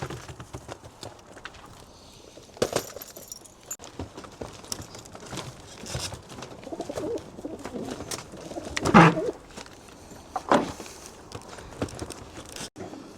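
Racing pigeons cooing in a loft, soft intermittent coos with wing flaps, scuffling feet and clicks scattered throughout, fairly close and quiet.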